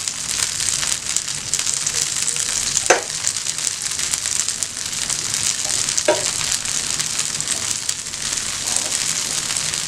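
Vegetables and methi leaves fry in oil in a pan, giving a steady, close hiss of sizzling throughout with a couple of brief stirring clatters and no talk.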